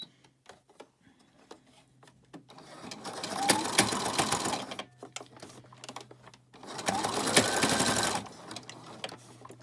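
A sewing machine runs a zigzag stitch over fabric scrap twine being coiled into a coaster. It makes two sustained bursts of rapid, close, steady mechanical clatter, separated by a quieter pause with light handling noises.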